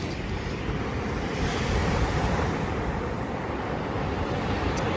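Ocean waves washing up on a beach that is being dredged, a continuous loud roar of surf with wind buffeting the microphone, steady and close with no voices.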